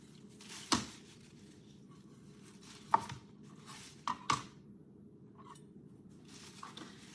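A knife slices the bottoms and tops off beets on a cutting board, giving a few sharp, separate chops spaced seconds apart over a quiet background hum.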